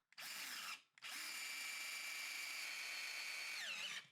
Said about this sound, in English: get your drill, and send it home